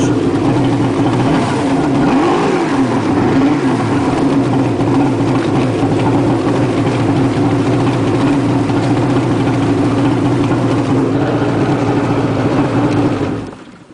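A jet ski engine, visibly smoking heavily, runs steadily at idle for about thirteen seconds, a loud, continuous low mechanical rumble with slight wavering in pitch before it cuts off at the end.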